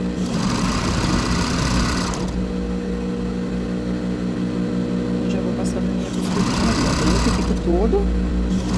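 A sewing machine stitches layered bra fabric in two short bursts of motor whir, one at the start and one near the end, with someone talking over and between them.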